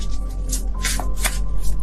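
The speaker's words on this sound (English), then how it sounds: "I don't know what's going on with my shuffling right now." Tarot cards being shuffled close up, a steady papery riffling with soft slaps and flutters, no voices.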